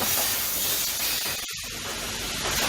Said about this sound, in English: parts are fed into a vibratory deburring machine filled with ceramic media